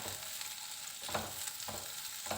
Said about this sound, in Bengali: পেঁয়াজটাকে তাই একটু হালকা লাল লাল করে ভেজে নিচ্ছি